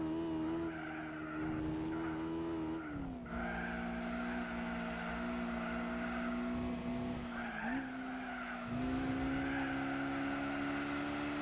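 Nissan 300ZX in Gran Turismo 4, a steady buzzy synthetic engine drone with shifting pitch and tire skids squealing underneath, fairly quiet and continuous.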